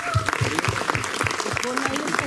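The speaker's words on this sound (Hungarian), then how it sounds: "Köszöntsük őket egy nagy tapssal!" A festival audience at a Tiszavégi day event claps together in a brisk, even rhythm, the applause close and steady, running under an announcer's voice.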